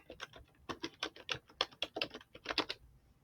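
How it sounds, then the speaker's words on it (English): Rapid, uneven clatter of keys on a computer keyboard, close and fairly loud, with short bursts and brief pauses and no voices. "I guess I'm typing everything."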